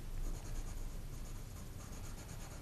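A charcoal pencil scratches steadily across paper in a soft, continuous rubbing stroke, close and quiet, with no other sounds.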